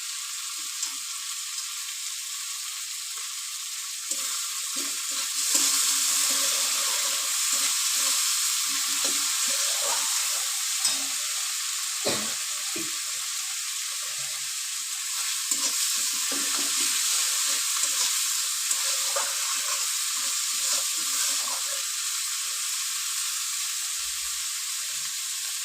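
Egg curry masala with chopped tomato and salt sizzles steadily in a pan, a constant bright frying hiss with occasional stirring scrapes and clinks, no talking.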